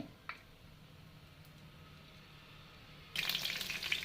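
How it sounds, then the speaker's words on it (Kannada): Mustard seeds and urad dal hitting hot oil, a faint low hiss for several seconds, then a sudden louder burst of crackling and spluttering toward the end. "ಎಣ್ಣೆ ಹಾಕಿದ್ದೀವಿ ಬಿಸಿ ಆದ ನಂತರ ಸಾಸಿವೆ ಮತ್ತು ಉದ್ದಿನ ಬೇಳೆ ಹಾಕಿದ್ದೀನಿ"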